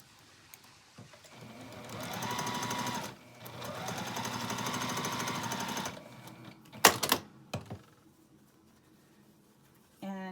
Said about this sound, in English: we're just going to start randomly sewing them together with a 1/4 inch seam